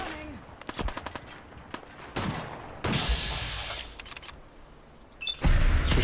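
Gunfire in the video game Fallout 4 with the Sim Settlements 2 mod: bursts of shots and sharp single cracks, loud and close, with a sustained rattling volley near the middle and another heavy burst at the end.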